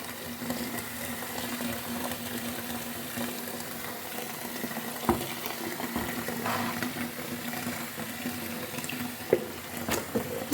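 Water steadily poured into a fruit-peel fertilizer mix, a continuous splashing stream with a couple of small knocks, close and fairly quiet.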